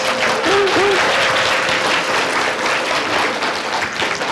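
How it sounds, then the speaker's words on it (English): A crowd of schoolchildren in grades 2 to 5 claps together in sustained, dense applause, loud and near, while a bright ringing tone from a very large chime fades early on. "you can clap, you can clap. Go ahead."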